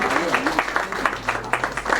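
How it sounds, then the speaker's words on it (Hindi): An audience at a book launch ceremony claps in a steady, moderately loud patter throughout, with someone speaking into a microphone over the applause. "इधर देखिए, एक बार फिर तालियों के साथ अभिवादन।"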